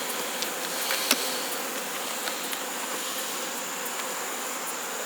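Honey bees buzzing at an open hive during a colony inspection, a steady soft drone of many wings with occasional brief louder passes of single bees close by, no talking.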